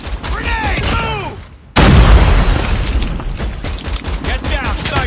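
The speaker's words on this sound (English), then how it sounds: "Grenade, move!" A grenade goes off in the Call of Duty Mobile video game as a sudden loud boom, followed by rumbling debris and continuing gunfire, with game voice chatter before the blast.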